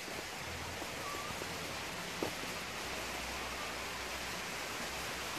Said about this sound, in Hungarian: Odalent valami patak zúg.